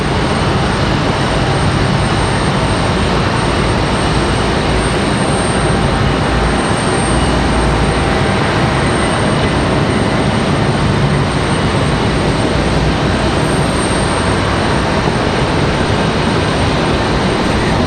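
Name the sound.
American Airlines Airbus A319 arriving from Miami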